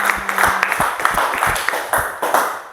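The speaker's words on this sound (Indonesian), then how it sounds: "Tepuk tangan." A classroom group of schoolchildren claps for a presenting group, with dense, uneven, quick hand claps running steadily at close range and light voices mixed in.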